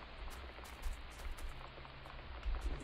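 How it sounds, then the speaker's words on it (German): Rain in the video game Factorio, a soft, steady patter of drops with faint scattered ticks and low rumbles underneath, quiet and continuous. "sobald es aufhört zu regnen"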